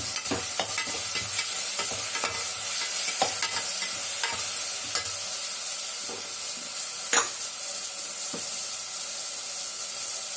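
Chopped tomatoes sizzle and hiss steadily in a hot frying pan for biryani while a spoon stirs them, scraping and clinking against the metal at intervals, close and continuous with no talking.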